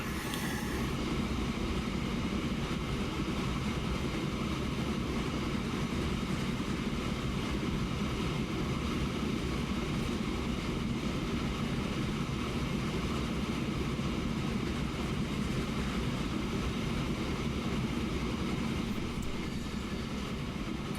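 A train rumbles along in the Transport Fever video game, a steady continuous low roar and hiss that holds at an even, moderate level throughout with no breaks.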